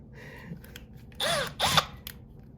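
Two short bursts of an electric drill boring into a Mitsubishi Lancer Evolution VIII transmission housing, spinning up and whining, close and fairly loud, separated by a brief pause, after some faint clicking.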